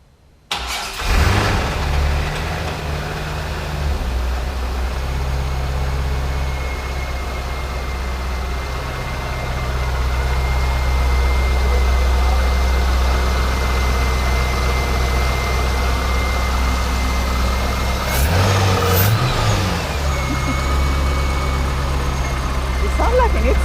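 A Corvette C5 Z06 engine starts up and runs steadily close by, a loud low idle rumble throughout with a brief rev near the end; a person speaks over it.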